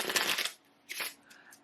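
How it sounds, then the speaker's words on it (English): A deck of playing cards being shuffled, with a dense riffle burst for about half a second followed by a shorter, softer second riffle and light card handling, close and fairly quiet with no talking. "and then do some shuffling."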